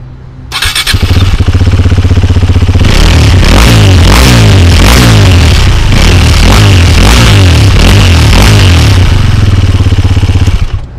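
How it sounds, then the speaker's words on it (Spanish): A Husqvarna Svartpilen 401 motorcycle engine running through its original stock muffler, starting up and then revving repeatedly in rhythmic bursts, loud and close with a deep, throbbing exhaust note and no talk. "un detalle que me parece muy importante, muy bonito, es el mofle y el sonido que emite."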